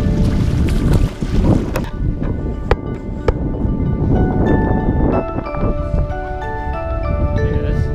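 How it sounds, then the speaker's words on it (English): Strong wind buffeting the microphone on a pier in old Budva, a constant loud roar and rumble with faint tonal ringing and clinks from boats and rigging nearby. "It's windy. Very windy."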